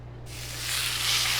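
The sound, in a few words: birria tacos sizzling while frying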